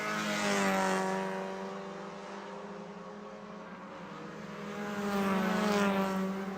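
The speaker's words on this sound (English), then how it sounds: "watch these cars coming through up towards to turn 5" Race cars roar past at Road Atlanta heading up toward turn 5, a steady engine drone that swells, eases and builds again as the cars go by, with no talk over it.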